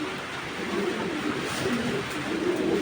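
Pigeons cooing in a loft, soft repeated low coos rising and falling over a steady background hum, close and moderate.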